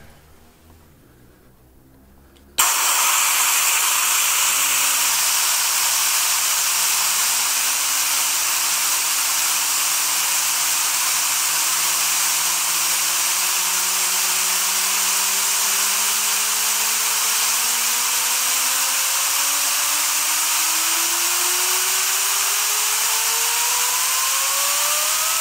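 A miniature Tesla turbine spins on compressed air and drives a load through a 3-to-1 pulley ratio. A loud, steady air hiss bursts in after a brief quiet start, and a whine climbs slowly in pitch as the turbine speeds up.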